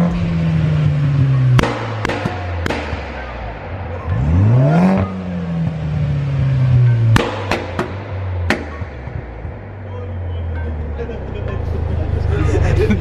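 A modified car engine revs hard several times with sharp pops and backfires, rising and falling in pitch, while people talk nearby.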